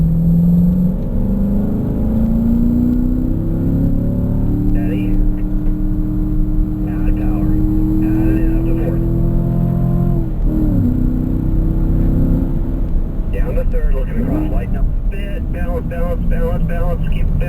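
Car engine droning and changing pitch as it accelerates on a race track, loud and steady throughout, with a voice coaching over it.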